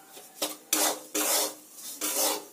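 Dry semolina is stirred and roasted in a pan, giving a few close, raspy scraping strokes in short bursts, with quiet gaps in between.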